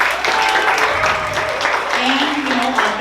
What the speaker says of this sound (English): Let's give her a hand clap.